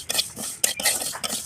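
Dal being fried and stirred in a pot with oil for beef biryani, with a spoon scraping and clinking against the metal in short repeated strokes, close and moderately loud, with no talking.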